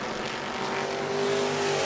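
Race cars roar around a dirt oval track at a New Smyrna family fun night, a loud continuous engine drone with a steady tone.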